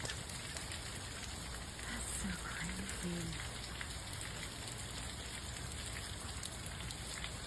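Steady rain pours down outdoors at night, a dense, even hiss of drops on surfaces running throughout with no clear breaks.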